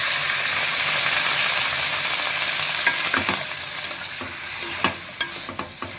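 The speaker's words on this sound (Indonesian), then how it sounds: "Kita masukkan penyedap rasa tadi, gula dan garam. Tumis-tumis lagi." Paprika and beef stir-fry in a pan as seasoning, sugar and salt go in, with a steady close sizzle under scraping, clinking spatula strokes that grow more frequent toward the end, and no talk.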